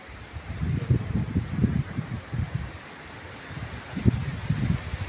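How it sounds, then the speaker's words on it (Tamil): Strong outdoor wind buffets the microphone in uneven low gusts, rising and falling in bursts of rumbling rush over a steady hiss, with no voices. "சவுண்டுன்னு பார்த்தா காற்று சவுண்டு பயங்கரமாக இருக்கு."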